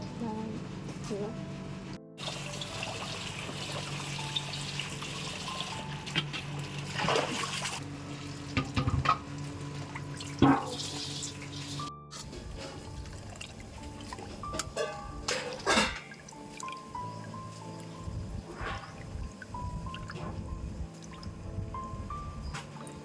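Fish maw is rinsed under running tap water in a kitchen, with steady splashing, drips and squishy handling sounds, and a person talking intermittently over the water.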